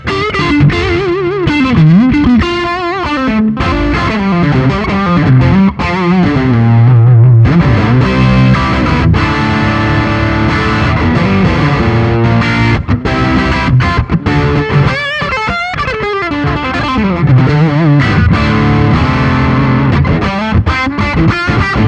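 An electric guitar runs through a Boss Waza Craft Tube Amp Expander with compression added, playing continuous distorted, effect-laden lines with bending pitches, loud and sustained throughout with no talking.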